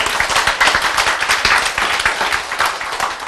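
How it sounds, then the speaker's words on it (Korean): An audience claps together at a Korean health-diet lecture, a loud, dense patter of many hands sustained evenly throughout with no talking over it. "박수!"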